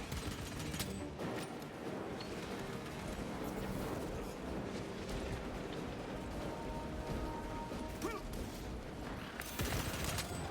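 Sustained gunfire from Space Marine 2, dense and continuous bursts of shots with scattered impacts, loud and unbroken for the whole stretch.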